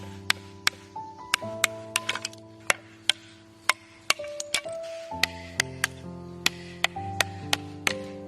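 Cut stone slate is tapped along a scored edge to knock off excess while shaping rectangular roof tiles, producing a quick series of sharp, ringing clinks and cracks, close and crisp, with brief pauses between strikes.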